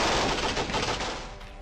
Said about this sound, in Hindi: ताबड़तोड़ बरसती गोलियां